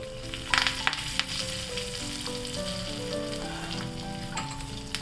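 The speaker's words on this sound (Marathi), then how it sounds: "आणि लाल मिरची हा तडका आहे ना या मिश्रणामध्ये घालते" Mustard seeds, asafoetida, urad dal and curry leaves crackle and sizzle steadily in hot oil in a kadhai for a South Indian chutney tadka, with a few sharp pops near the start and a steady frying hiss throughout.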